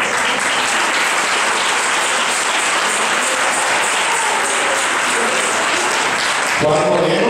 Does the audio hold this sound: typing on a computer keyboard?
no